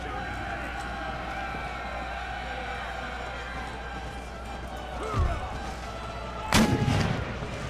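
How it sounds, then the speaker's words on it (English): Artillery firing shrapnel shot in Empire: Total War, a fort battle scene: a steady bed of distant battle noise, then a booming cannon shot near the end, followed by a loud blast. "Shrapnel shot fire."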